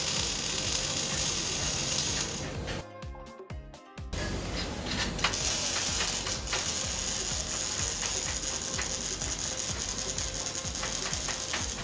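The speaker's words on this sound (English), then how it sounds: "We use welding robots for the large series." Welding robots and machinery run continuously on a BERG go-kart factory floor, with dense mechanical clatter and ratcheting, clicking pulses throughout and a brief dip in the din near the middle.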